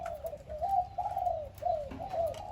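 A zebra dove coos in a soft, rolling series of trilled notes, fairly close, repeating in a steady rhythm over quiet background noise.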